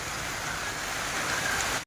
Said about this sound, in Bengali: বৃষ্টি চলে আসলো এত গরমের মধ্যে বৃষ্টি চলে আসলো